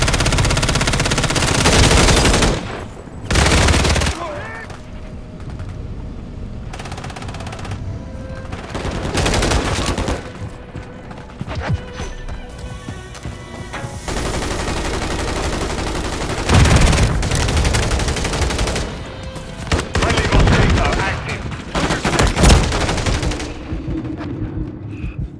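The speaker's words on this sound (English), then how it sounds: "Taking fire over here." Heavy gunfire in a Call of Duty match, repeated loud automatic bursts and single shots across the whole stretch, broken by brief lulls of quieter battlefield noise.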